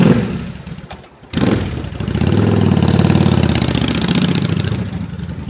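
A Yamaha Drag Star 650 motorcycle engine revs up loudly after a brief dip, then settles into a steady, throaty running rumble close by.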